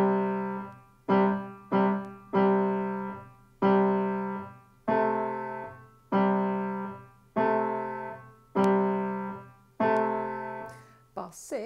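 A keyboard plays the opening five bars of a piece in a slow, steady sequence of clear, loud tonal notes and chords, each decaying before the next, with no talking.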